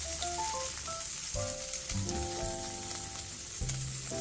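Beef patties sizzle steadily in a hot pan, a close, continuous frying hiss with occasional light scraping, no voices.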